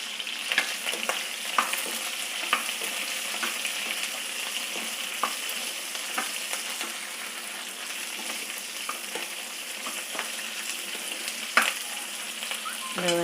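Okra and curry leaves fry in a hot pan with a steady, close crackling sizzle. Occasional light stirring clicks sound throughout, with no voices.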